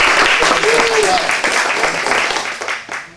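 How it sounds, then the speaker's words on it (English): Audience applause for a printing sponsor at a storytelling event fills the room with dense, steady clapping that holds strong and then starts to taper near the end. "how about a nice round of applause?"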